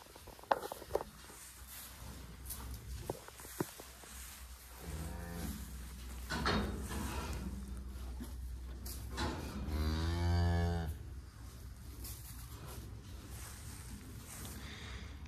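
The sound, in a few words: cow mooing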